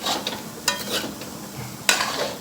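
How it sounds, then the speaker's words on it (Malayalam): Black pepper is stirred into cooked clam meat in a pan, with soft scraping and a low sizzle and a couple of sharper utensil scrapes, heard close up. "എന്നിട്ട് വീണ്ടും ഇതൊന്ന് ഇളക്കി യോജിപ്പിക്കുക."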